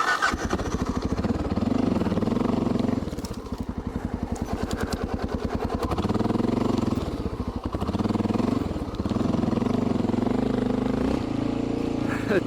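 A Honda XR650L motorcycle engine runs close by on a dead-end trail, its single-cylinder thump pulsing at idle, then dipping and rising with throttle blips, steady and loud from start to finish.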